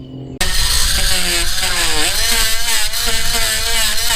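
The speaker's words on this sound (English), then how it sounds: "So I'll be able to clean this up today. And I need to sand it smooth" A power sander starts abruptly and runs steadily up close, smoothing a boat's rain catch, with a loud whining motor tone that wavers slightly in pitch as pressure changes.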